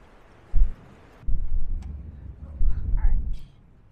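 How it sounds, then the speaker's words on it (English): Gusty wind buffets an outdoor microphone beside a 1964 Comet being worked on, coming as loud low rumbling bursts that rise and fall over a few seconds with faint background sounds. "it's getting really windy out here"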